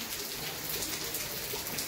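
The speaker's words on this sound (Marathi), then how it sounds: "आमच्या इथे दिवसभर पाऊस चालू आहे" Steady rain that has been falling all day, a continuous even hiss of drops on surfaces, moderately quiet and unbroken, with no voices.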